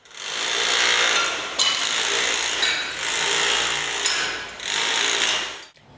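Power tools tear out walls and floors during the renovation of a children's hospital haematology ward, loud close grinding and hammering in four sustained bursts with short pauses between them and no voices.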